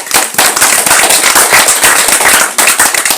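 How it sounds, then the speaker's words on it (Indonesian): Applause from a small crowd at a political campaign gathering in Tanimbar, with dense, loud, rapid clapping that fills the whole moment and dips briefly before picking up again. "Aplaus dulu"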